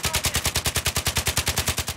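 Rapid automatic gunfire from Battlefield 3 multiplayer, a fast, even burst of about twenty loud shots fired close up with no pauses.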